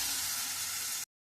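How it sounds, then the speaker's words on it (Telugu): Masala, potato, onion and tomato for a drumstick curry sizzle in a pan over a low flame, a close, bright frying hiss that runs steadily for about a second and then cuts off. "మసాలా, బంగాళదుంప ఇవన్నీ కూడా, ఉల్లిపాయ అన్నీ కూడా ఇలా వేగుతున్నాయి"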